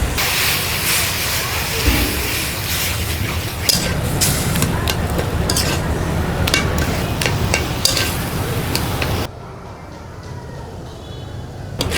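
Taro leaf curry sizzling in a pan while being stirred, a steady loud frying hiss with occasional scraping knocks, close by, under talking; the sizzle drops away toward the end.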